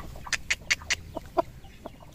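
A hen clucks in a short run of sharp, repeated calls, fairly close, followed by a few lower clucks with no talking.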